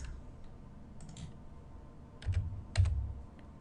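Typing on a computer keyboard while entering a fraction answer in an online math program: a few quiet clusters of key clicks separated by pauses, close and faint.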